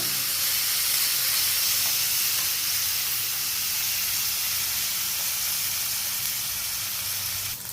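Chopped onions sauté in a hot pan for a field bean masala fry, a loud, unbroken hissing sizzle with a steamy edge that holds steady the whole time.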